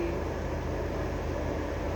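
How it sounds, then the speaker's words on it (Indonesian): Engine of a Pramek passenger train heard from on board as a low, steady diesel hum with a broad rumble, constant and moderately quiet throughout. "Dan ini suara mesin dari kereta api"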